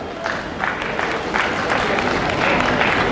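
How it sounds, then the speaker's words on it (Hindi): Crowd at a village folk dance competition prize announcement applauds, a lively clatter of hands with scattered cheers and crowd voices mixed in, growing slightly stronger toward the end. "आपकी तालियां आती रहे,"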